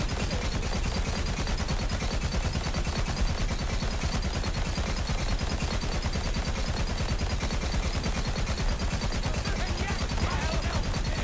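Relentless rapid-fire gunshots from a gun in Borderlands 3 that just keeps firing, a fast unbroken stream of loud bursts with no pause for reloading.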